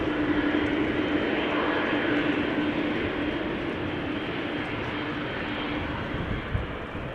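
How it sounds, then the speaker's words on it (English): An Austrian Airlines Airbus A320 takes off from Runway 18 Left at Amsterdam Schiphol Airport, a steady, loud jet engine roar with a faint low hum that holds throughout. "Austrian is taking off from Runway 18 left."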